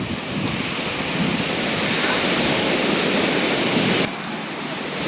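Steady broadband wash of sea waves rolling onto a beach under a cloudy sky, continuous and fairly loud with wind-like hiss, dropping slightly in level near the end; no talk.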